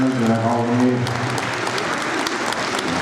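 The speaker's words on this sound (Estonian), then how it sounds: "Ja suur aplaus meie seeneritele poolfinalistidele" Audience applause rings out for senior semifinalists at an Estonian standard ballroom dance championship, a dense, sustained clapping that rises as a voice finishes speaking over a tonal backdrop at the start.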